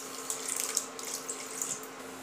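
Water poured into a kadhai for steaming, a soft continuous splashing trickle with light fluctuations, fairly quiet and heard alone.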